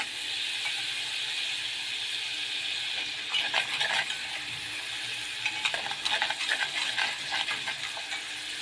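Garlic frying in a pan on the stove for fatta tomato sauce, a steady soft sizzle and hiss with bursts of scraping and stirring clatter in the middle and later on.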